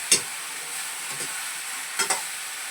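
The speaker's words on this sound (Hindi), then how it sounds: "इस तरह से थोड़ा हल्का सा इसको कढ़ाई में कड़छी चला के भून लेंगे।" A ladle scrapes and knocks in a kadhai while homemade hill spice masala roasts with a steady faint sizzle, a few distinct scraping strokes close by, no talk.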